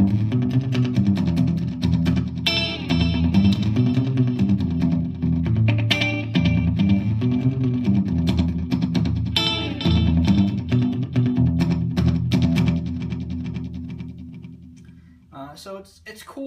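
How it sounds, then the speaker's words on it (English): Electric guitar played through a Boss DD-20 delay pedal set to a fixed-level slapback echo layered with a regular delay, notes and chords repeating in quick echoes, fairly loud, then trailing off into fainter repeats at the close. "So basically what you end up with is a slapback delay at a preset volume,"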